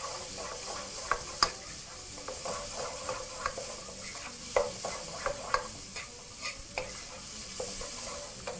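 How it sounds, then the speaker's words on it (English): Minced meat stirred in a pan over medium heat, a continuous sizzle and frying hiss with frequent scraping stirs and small utensil knocks against the pan, close up and steady with no talk. "proceed to mix everything as you turn up your heat a little higher to medium"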